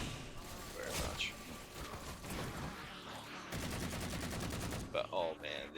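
Auto rifle fire from Halo 4 sounds in rapid, even bursts, with a sustained rattling volley midway through and scattered shots and impacts around it, fairly faint beneath game sounds.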